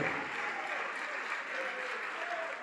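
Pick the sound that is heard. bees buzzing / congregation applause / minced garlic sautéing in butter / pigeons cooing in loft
congregation applause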